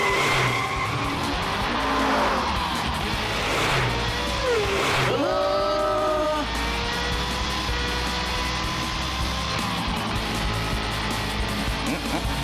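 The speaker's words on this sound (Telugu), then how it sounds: "రివర్స్ గేర్ వెయ్యి, వెయ్యి." A cartoon race car backs up in reverse gear, with loud tire skids and engine whine that sweeps down and rises again, followed by a steady hum and wavering tones.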